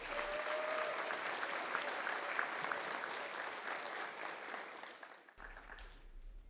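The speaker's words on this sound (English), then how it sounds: "A big round of applause for these girls." Audience applause for a high school softball team at a graduation event, a dense sustained wash of clapping that carries for about five seconds and then cuts off abruptly, leaving a quiet room tail.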